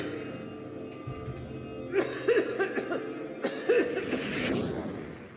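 A woman with fever and a dry cough, seen at a local hospital in Hong Kong, coughs in a few short bursts spread across a quiet, close background.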